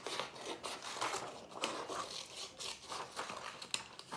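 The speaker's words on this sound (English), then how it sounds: "Again, I'm gonna move the paper, not the scissors as much." Scissors snipping through paper for a Matisse-style cut-paper project, a steady run of soft close crisp cuts and rustles with the sheet being turned, no talking.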